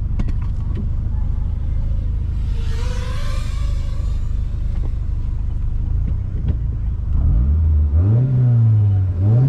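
A car engine revs hard at the start of a road race, a loud, steady roar heard from onboard that climbs and falls through rising and dropping pitch sweeps near the end.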